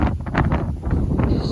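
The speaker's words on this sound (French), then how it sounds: "Le vent s'est levé les amis, il est bien fort." Strong wind on the coast of Belle-Île-en-Mer buffets the microphone in loud, continuous gusts, with low rumbling and fluttering bursts throughout.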